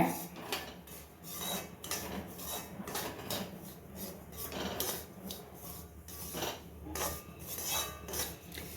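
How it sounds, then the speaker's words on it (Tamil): Semolina (rava) being stirred and roasted in ghee in a pan, a steady scraping and rustling of a spoon against metal with soft rhythmic strokes, close and alone without talk. "இந்த ரவையையும் நம்ம வந்து நல்லா வறுத்துக்கிடுவோம் அந்த நெய்யில்."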